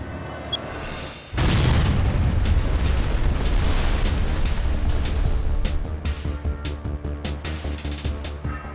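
A nail bomb goes off in a sudden, loud blast after a moment of quiet, followed by a sustained roaring rumble and debris noise that slowly tails off with scattered crackles.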